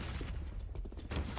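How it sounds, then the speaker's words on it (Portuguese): Gunfire in a Counter-Strike match, rapid bursts of shots crackling over a dense game mix, with a heavier cluster of shots near the end, all at fairly low overall level. "o Fallen tomou um monte de tiro"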